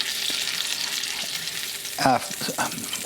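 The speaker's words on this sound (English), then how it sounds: "we just make sure we scrape up all the good bits on the bottom of the pan" A pan holding sauce and flavorings left from cooking shrimp, before any butter or garlic goes in, sizzles steadily while a utensil scrapes the bottom, with one louder scrape standing out near the end.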